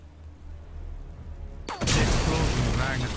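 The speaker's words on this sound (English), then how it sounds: "Oh no, that's the explosion." Explosion in the Sniper Elite VR video game, a sudden loud broadband blast about halfway through that stays sustained and rumbling to the end, following quieter low background ambience, with a voice talking around it.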